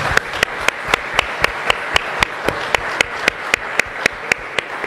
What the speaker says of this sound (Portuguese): Vamos dar uma salva de palmas para os nossos participantes